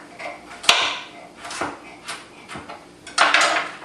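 Ingredients for lettuce wraps are chopped with a knife on a board in a home kitchen, giving several sharp, irregular knocks and scrapes that land close by, with clinking utensils between the strikes.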